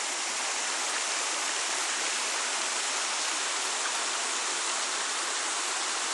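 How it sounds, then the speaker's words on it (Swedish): A waterfall and stream in a New Zealand forest roar as a steady, dense wash of rushing water, loud and close, with no voices. "Men om det är så att vattenfallet faktiskt är här."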